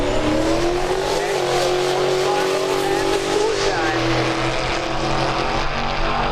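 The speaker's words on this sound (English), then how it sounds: "going to spool the turbo up" Turbocharged drag race car at the Summit Racing Midwest Drags, a loud, steady engine roar with a rising pitch as the turbo spools and the car launches, sustained and close throughout.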